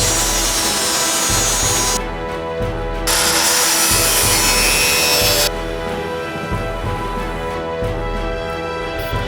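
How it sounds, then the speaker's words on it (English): A power saw cutting through a motorcycle seat pan, a loud, steady, continuous grinding whine with a few short shifts in tone, close and without talk. "Now I'm gonna go ahead and start cutting up the seat pan to make it fit."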